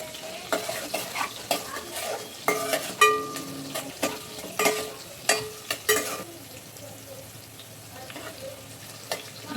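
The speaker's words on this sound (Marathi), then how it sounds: "आणि छान परतून घेऊया" Green chillies being sautéed in a pan with a pinch of salt, a quick series of clattering spatula stirs and scrapes over steady frying sizzle, loud and close, easing into quieter sizzling toward the end.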